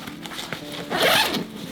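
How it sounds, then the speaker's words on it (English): A zipper on a LowePro Tactic 450 camera backpack is drawn open in a few short, close rasping pulls, ending in one longer, louder zip. "with zippers, as you typically would."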